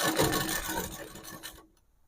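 A sewing machine stitches a half-inch seam on ladies' pants, a close, steady mechanical chatter that runs continuously and then stops abruptly, leaving near silence.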